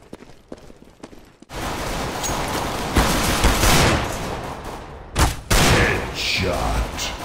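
Desert Eagle pistol fire rings out in the CS:GO video game. Loud, harsh bursts of gunfire follow a quieter opening, with sharp peaks standing out near the end.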